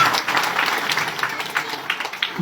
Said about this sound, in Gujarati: એના માટે એવી તાળીઓ પણ મળવી જોઈએ હાઈસ્કૂલ વાળાને